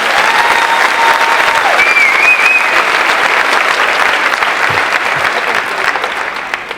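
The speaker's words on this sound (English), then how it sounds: "So can we give them a round of applause?" A school district convocation crowd applauds in sustained, loud, even clapping that fills the whole stretch and eases slightly near the end, with a few faint cheers mixed in.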